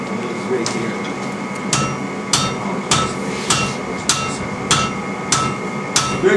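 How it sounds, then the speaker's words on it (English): A hammer strikes metal in a steady series of about ten sharp, close blows, roughly one every 0.6 seconds, over a constant low background hum. "Very careful where I put my hammer now."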